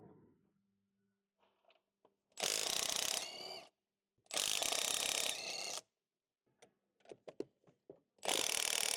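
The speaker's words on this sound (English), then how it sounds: "Use a 15mm deep socket with the extension to remove the mount nuts." Socket wrench on a 15mm deep socket with extension removing engine mount nuts on a Ford Explorer, three loud close bursts of rapid ratchet clicking separated by pauses and small metallic taps.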